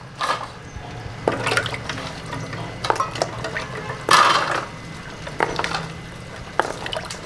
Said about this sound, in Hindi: तो बर्फ़ को अगर घर की यूज़ कर रहे हैं तो फिर तो कोई मसला नहीं है। बाकी आप इसको अच्छी तरह धो के ये सारी बर्फ़ इसके अंदर डालेंगे